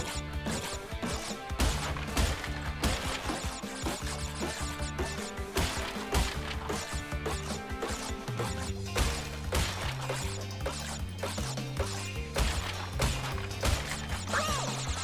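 Wooden crates are smashed in the video game Crash Bandicoot N. Sane Trilogy, with repeated sharp cracks and thwacks over busy, constant game music and effects.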